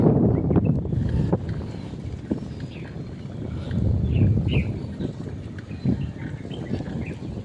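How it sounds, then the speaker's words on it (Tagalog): Low, steady engine rumble from distant boats under gusty wind noise, with faint bird calls and occasional knocks close by. "May mga naririnig na akong bangka sa malayo."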